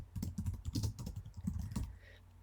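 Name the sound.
typing a title on a computer keyboard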